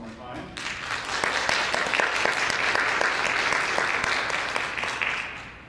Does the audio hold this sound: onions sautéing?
no